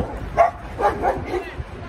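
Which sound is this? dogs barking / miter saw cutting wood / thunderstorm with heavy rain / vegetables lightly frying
dogs barking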